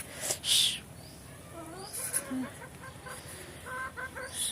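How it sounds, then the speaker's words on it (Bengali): A village hen that has just laid two eggs clucks softly in short, irregular bursts, faint and somewhat distant, with light rural background noise. "মুরগিটা ডিম দিচ্ছে, 2টা ডিম দিয়েছে মাত্র।"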